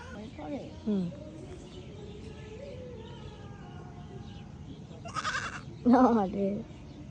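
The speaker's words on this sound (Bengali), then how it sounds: "এই যে আরেক ছাগল, এই যে আরেকটা ছাগল।" Goats bleat at a family park, a couple of clear nearby calls rising over background chatter and children's voices, with faint bird chirps in between.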